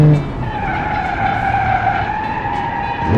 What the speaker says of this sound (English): Only it spins its tires a lot on the dirt.